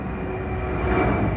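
An airplane flying overhead gives a steady, loud, broadband engine drone that holds without a break for the whole short stretch.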